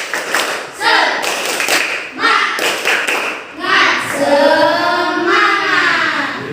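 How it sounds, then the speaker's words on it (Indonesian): Elementary schoolchildren in a classroom perform a rhythmic spirit clap, bursts of clapping in a patterned beat alternating with their chanted voices, the chant growing louder toward the end. "Ayo, tepuk semangat"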